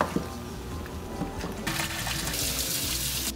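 Tap water pours into a cooking pot in a home kitchen, filling it for boiling; after a quieter opening with faint clinks, a steady close rushing hiss starts and continues to the end.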